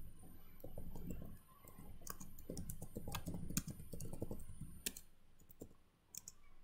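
Typing on a computer keyboard to enter a Chocolatey package-manager command on Windows: a steady run of quick clicks and taps, with a brief pause partway and a few sharper keystrokes near the end.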